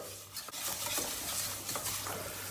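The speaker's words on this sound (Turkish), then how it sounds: "Şöyle ortalama iki dakika sarımsakla beraber bunu bir kavuracağız." Tarhana sautéing with garlic in a pan makes a steady, soft sizzle, with a spoon scraping and stirring through it in irregular strokes; no voices.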